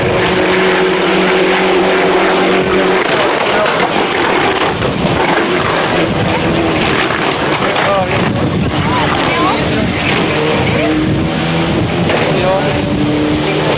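Group-A Ford Escort RS Cosworth rally car on a Gran Canaria stage, engine roaring continuously and loud with wind buffeting, gear changes and revs rising and falling, someone talking over it throughout.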